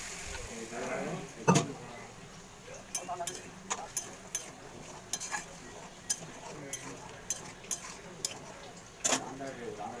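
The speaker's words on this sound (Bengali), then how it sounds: "মশলাটাকে আরেকবার নেড়ে নেব" Spice paste being stirred in a wok while cooking banana-flower ghonto, with sharp, irregular clinks and scrapes of a spoon against the metal and a soft sizzle underneath.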